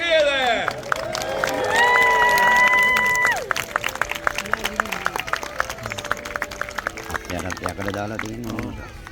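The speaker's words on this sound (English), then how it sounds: "Can we give Charlemagne a huge cheer there?" A crowd at a medieval jousting tournament at Bolsover Castle cheers and claps for a knight's horse, a loud swell of whooping under a trumpet-like tone, then scattered clapping and hubbub as a voice talks over it.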